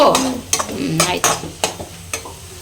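Vegetable palya with turmeric and salt frying in a pan, a soft sizzle broken by about six distinct scraping stirs of a spoon at a steady rhythm, close and clear.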